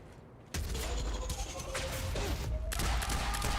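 Gunfire in the video game Quantum Break opens after a brief near-silence, becoming a sudden dense fusillade of rapid, close shots. The shots continue in bursts with one short gap before resuming, and no talk is heard.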